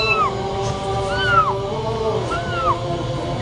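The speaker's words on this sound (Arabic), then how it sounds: "في قطو هنا تفرفر عندنا" A cat meows repeatedly inside a television studio, three drawn-out rising and falling calls at moderate distance over a low room hum.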